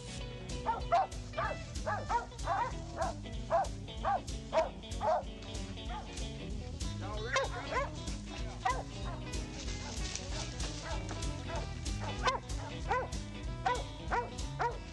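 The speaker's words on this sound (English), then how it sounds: "the dogs have already treed one time" Hunting dogs bark and yip repeatedly at a squirrel up a tree, sharp rhythmic bursts at close range, with some whimpering and someone talking in between.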